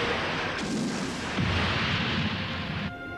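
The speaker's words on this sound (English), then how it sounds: "ULT lasers, fire one." Sci-fi laser weapons fire in a 1995 Godzilla film battle: dense, roaring, blast-like bursts sustained for about three seconds, loud and close, with surges near the start and middle before cutting off abruptly.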